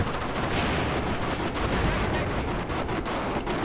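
Gunfire in the video game Battlefield 4 forms a dense, continuous barrage of rapid automatic shots, loud and close, with no speech.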